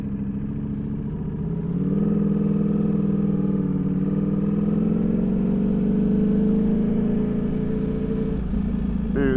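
A Ducati Panigale V4 fitted with a Spark Double Grid exhaust idles loud and near, then its engine rises to a sustained higher hum before dropping back at the end.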